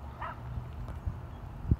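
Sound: small dog yapping and barking

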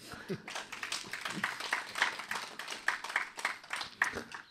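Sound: applause

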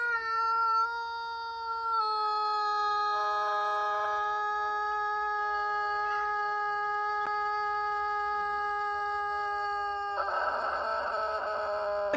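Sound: Denizli rooster crowing long

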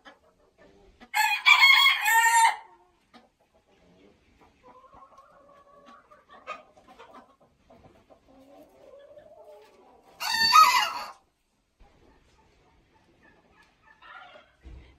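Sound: rooster crowing

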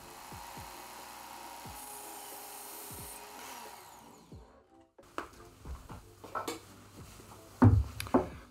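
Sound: sharpening a butter knife on a grinder belt

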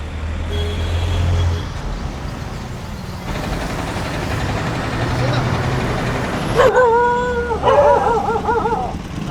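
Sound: man imitating a barking street dog in street play

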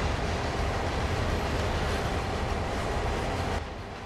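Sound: train slowing down in Train Sim World video game

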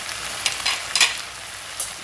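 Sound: chilli chicken being stirred and frying in a pan

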